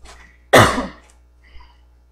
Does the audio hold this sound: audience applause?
no